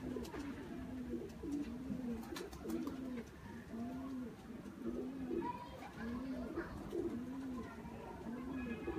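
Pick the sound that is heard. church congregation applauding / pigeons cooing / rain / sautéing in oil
pigeons cooing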